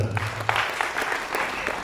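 A short burst of audience applause in a theatre hall at a cultural programme in Kurnool, a dense patter of clapping hands close by, starting just after a low voice.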